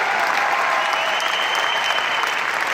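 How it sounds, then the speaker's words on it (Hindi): Audience applause at a jewellery brand event: steady, dense clapping from a crowd held at an even, fairly loud level throughout, with no voices over it. "आप ताली बजाइए अपने लिए"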